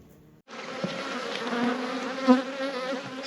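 Honeybees buzzing steadily during a spring hive inspection, a dense close hum that starts abruptly and holds with slight swells, no voices over it.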